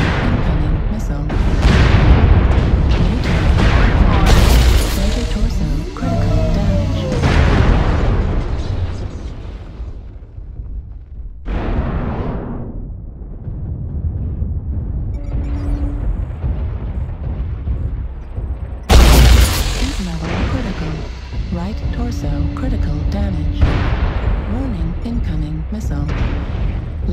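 Incoming missiles explode during a MechWarrior Online match, with heavy booming blasts and rumbling impacts throughout, including a sharp loud burst near the end, mixed with mech cockpit sounds and voices talking.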